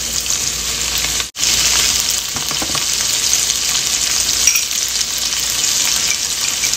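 Beef and tomato stir-fry sizzling loudly and steadily in a hot pan, a dense crackling hiss with a brief cut near the start, alone without voices.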